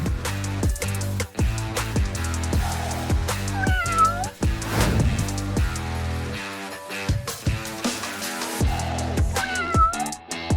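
A cat gives a few clear, rising meows, near and fairly loud, set against busy background music with rhythmic beats.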